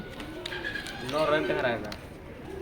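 Racer pigeons, females, cooing nearby in soft, repeated throaty phrases, with a few brief noises mixed in.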